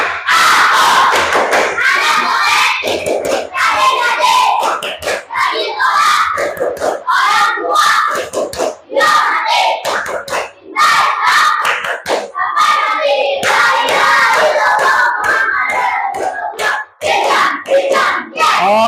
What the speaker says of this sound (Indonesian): Coba tepuk anak soleh dulu. Tepuk anak soleh.